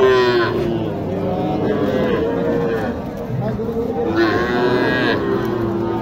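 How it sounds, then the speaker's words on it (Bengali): Young bull calves at a cattle market in Naogaon low and moo loudly nearby, with two long drawn-out calls rising over a murmur of market background noise. "এখানে দেখেন ছোট ছোট খামার উপযোগী ষাঁড়, যেগুলো উন্নত জাতের।"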